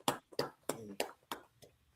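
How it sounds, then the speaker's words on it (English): A small group clapping at a Purim feast gathering: six sharp, evenly spaced claps in a steady rhythm, fairly close and moderately loud, with no talk over them. "Alright, guys, clap it up."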